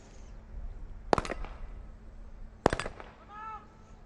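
Sniper rifle fired by an Indonesian shooter at a SWAT challenge competition in the UAE: two sharp, loud cracks about a second and a half apart, each with a short ringing tail over low outdoor background noise.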